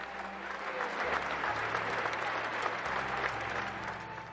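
Sustained, dense applause from a large crowd at the end of Pope John Paul II's funeral, steady clapping filling the space, with a low hum underneath.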